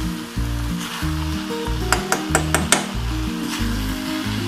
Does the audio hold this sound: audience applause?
no